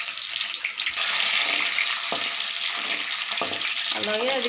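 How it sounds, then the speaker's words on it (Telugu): Mustard seeds and garlic cloves fry in hot oil in a home kitchen, giving a steady, loud hiss and crackle throughout, with a few soft knocks and a brief voice near the end. "ఇంకా ఆవాలు బాగా వేగాక తెల్లగడ్డ పాయలు కొన్ని వేసుకొని"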